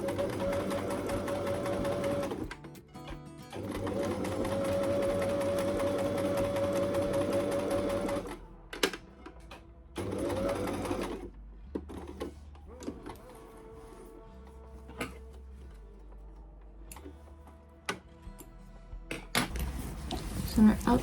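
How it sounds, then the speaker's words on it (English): A sewing machine runs in sustained bursts as it stitches a zipper fly on linen pants, with pauses between runs, light handling clatter and occasional talk. "going to sew it twice just so it's extra strong"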